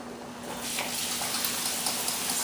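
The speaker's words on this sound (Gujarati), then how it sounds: "તો હું હાથ ધોઈ નાખીશ" Hands washed under a running kitchen tap after handling raw chicken, a steady close gush of water with small splashy variations throughout, no talking.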